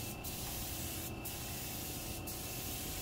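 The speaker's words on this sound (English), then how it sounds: "turn the nozzle back to the horizontal setting and spray side to side" A 3M Accuspray paint sprayer spraying chalk paint onto drawers hisses steadily at close range, with three short louder bursts cutting in over a constant mechanical drone.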